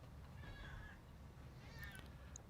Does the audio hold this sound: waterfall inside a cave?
no